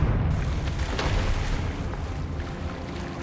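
A Confringo fire spell detonating in the Hogwarts Legacy video game, a loud, sustained booming explosion with rumbling low end that fills the whole moment and fades slightly, without talking.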